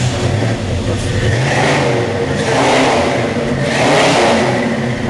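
A 1973 Plymouth Cuda with a 340 V8 and six-barrel carburetion rumbles loudly up close, its engine swelling through three revs over a deep steady idle, with no talking.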